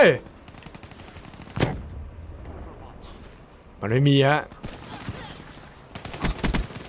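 Gunfire in Call of Duty Black Ops III multiplayer: a sharp close shot, then a longer burst of rapid rounds amid quiet game ambience, with someone talking briefly between shots.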